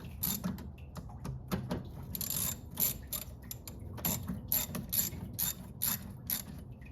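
A ratchet with an 8mm socket loosens a bolt on a 2013 Chevy Tahoe during a radiator replacement, giving rapid bursts of close, sharp clicking strokes in an uneven rhythm with no talking.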